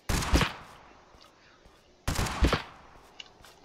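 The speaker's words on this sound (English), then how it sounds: "Someone's trying to shoot us." Gunfire in the video game Totally Accurate Battlegrounds: two loud, sharp bursts of shots about two seconds apart, each crackling quickly and fading into a softer tail.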